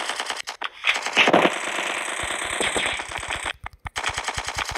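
Rapid automatic gunfire in the video game Strike Fortress Box, dense bursts of sharp shots firing in quick rhythmic succession with brief pauses, loud and close throughout.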